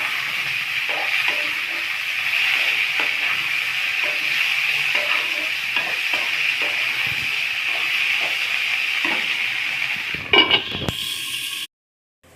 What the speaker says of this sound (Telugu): వీటిని కొంచెం బాగా వేగాలి, పచ్చివాసన వస్తుంది.